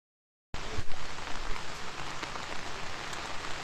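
Rain pours steadily outdoors at a scouting event, a dense, even hiss that starts abruptly and continues loud and close with no voices.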